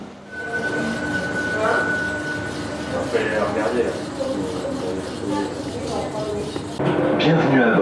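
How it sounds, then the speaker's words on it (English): Inside the Orlyval shuttle train at Paris Orly, a steady rumble and hiss of the moving car carries on, with a faint tone and rattles. A voice talks over it, and the noise grows louder near the end. "we have to find the free shuttle train called Orly Val"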